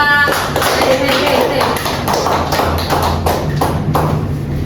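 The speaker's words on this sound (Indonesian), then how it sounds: "Big applause dulu buat kelompok 3" Classroom applause for a student group after a micro-teaching presentation, a dense patter of hand claps filling the space, near and fairly loud, with voices talking over it.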